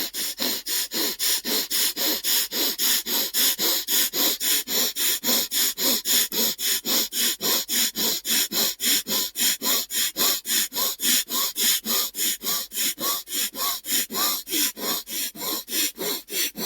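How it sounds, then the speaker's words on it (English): A person breathes rapidly and forcefully in and out through the nose during a yoga breathing exercise, a close, steady run of sharp rhythmic sniffing huffs, about two per second, with no talking. "inhaling and exhaling through the nose, nice and fiery, as rapidly as possible without hyperventilating"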